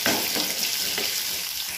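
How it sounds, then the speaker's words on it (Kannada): Green chilies, curry leaves and onion sizzle in hot oil in a pan, with a steady crackling fry close by and a few stirring scrapes in a short stretch, and no talking. "ಈ ಟೈಮಲ್ಲೇ ನಾನು ಹಸೆಮೆಣಸಿನ್ಕಾಯಿ, ಕರ್ಬೇವಿನ ಸೊಪ್ಪು, ಈರುಳ್ಳಿ ಹಾಕ್ತಾಯಿದ್ದೀನಿ"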